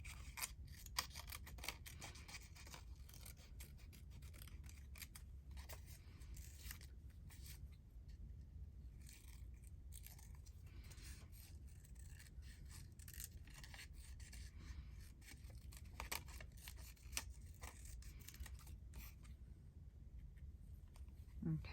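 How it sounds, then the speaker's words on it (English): Scissors cut out paper ephemera with quick, repeated close snips and the rustle of paper, quiet and steady over a low background hum, with brief pauses between runs of cuts. "Let's just cut this one out. I did find my scissors."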